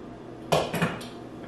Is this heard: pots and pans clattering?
yes